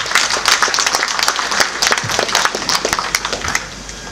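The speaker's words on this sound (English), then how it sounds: "give yourself a resounding round of applause for this honor" Audience at a birthday lecture celebration breaking into a resounding round of applause, dense clapping sustained throughout and tapering slightly at the end.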